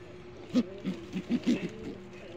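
Pigeons in a loft give a short series of about five soft, low coos, close by and fairly quiet, against a faint background.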